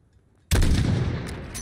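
A single sharp rifle shot fired at a distant target in Modern Warfare (2019), a loud sudden crack with a booming tail that rings out and slowly decays.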